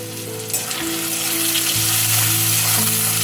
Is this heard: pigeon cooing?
no